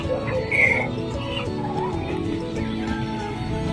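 Captive wild jungle fowl caught in a snare cluck and murmur close by, soft irregular calls over a low background hum, with one brief higher squawk early on.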